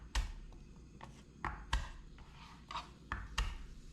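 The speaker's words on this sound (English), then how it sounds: "Garlic, I cut the ends off so it's easier to peel" Kitchen knife trimming the ends off garlic cloves on a cutting board, a series of sharp irregular taps and chops, close and moderately loud, with no voice.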